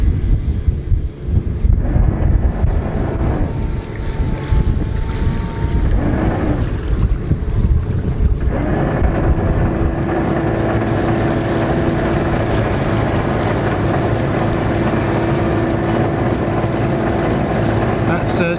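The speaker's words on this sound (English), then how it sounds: "So we're just going to use the bow thruster here, and I'll just show you." A boat's 20-horsepower bow thruster pushes the hull against the quay. It starts as a loud, steady mechanical hum with a droning tone partway through and holds, after a stretch of wind buffeting and water noise.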